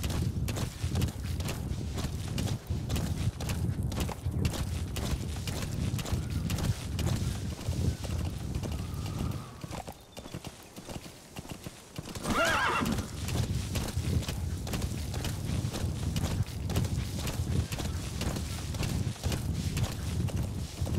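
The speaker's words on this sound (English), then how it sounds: "Diamond horse, making everybody look silly." D-Horse's hooves pound in a continuous gallop in Metal Gear Solid V: The Phantom Pain, loud and close, dipping briefly midway before a sharp neigh, then the rhythmic drumming resumes to the end.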